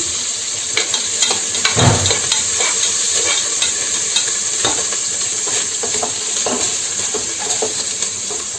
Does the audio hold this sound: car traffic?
no